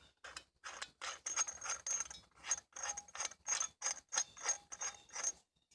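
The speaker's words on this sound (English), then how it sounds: "It's got a lug nut here to loosen it up." Lug nut on a Gold Armour folding camping shovel being turned, giving a run of sharp metallic ratcheting clicks in quick bursts with short pauses, close and clear, with no talking.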